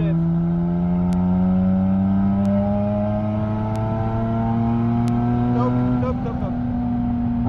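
A turbocharged BMW 325i E36 pulls hard in third gear, the engine note climbing steadily and loud from inside the car before easing off near the end, with occasional faint ticks over it.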